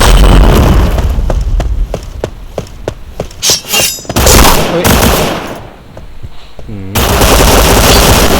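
Rapid bursts of automatic gunfire crack close by in the Point Blank shooter game, followed by booming grenade explosions that swell and fade, with a brief game voice callout among the shots.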